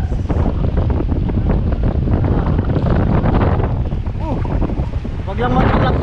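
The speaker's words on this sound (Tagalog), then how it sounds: "Lumalaki na pati along." Strong storm wind roars into the microphone while waves build and wash nearby, a constant loud rush with people talking over it.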